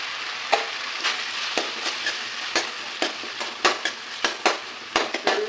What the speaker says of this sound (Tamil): தக்காளி வணக்கிட்டுக்கலாம்.